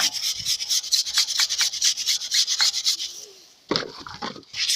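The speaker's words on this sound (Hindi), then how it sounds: "एक टायर पे मैंने बुरश मार लिया है और दूसरा टायर पे मैं बुरश मारने जा रहा हूँ।" A brush scrubbed back and forth over a Hero motorbike tyre during a bike service, brisk rhythmic rasping strokes close up, pausing briefly before resuming with a few heavier strokes.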